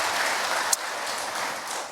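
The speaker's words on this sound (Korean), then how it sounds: "하나님께 영광의 박수." A congregation claps during a Friday worship service at a Korean church, a soft, even patter of many hands heard somewhat distant for about two seconds, with one sharp click partway through.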